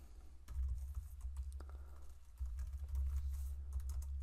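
Fingers typing on a computer keyboard, rapid irregular key clicks at close range over a low hum, continuing throughout with brief pauses.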